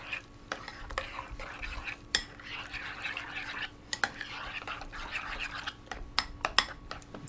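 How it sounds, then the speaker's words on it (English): A spoon works through a mixture of chopped garlic and lemon juice in a bowl, producing soft wet swirling and repeated light clinks against the side, close and fairly quiet. "I'm just going to give it a nice stir."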